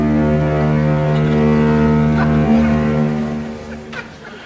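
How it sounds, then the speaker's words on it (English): A deep, loud foghorn from a nearby foghorn factory drones in a sustained, heavily harmonic blast that holds steady, then tapers off toward the end. "He only showed us the property on the Saturday when the Foghorn factory was closed."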